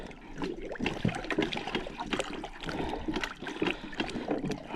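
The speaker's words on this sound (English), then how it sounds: "She's clearly filling up full of water. Everything's underwater." Water gushes and gurgles into a submerged three-wheeler, a steady close rushing and trickling sound with no talk.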